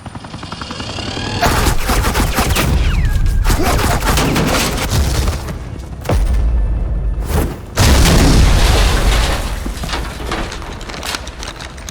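Bursts of suppressing gunfire in Batman: The Enemy Within come as loud, dense automatic volleys and booms. They run almost nonstop with short breaks and no clear speech.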